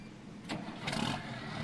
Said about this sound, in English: Get the engine started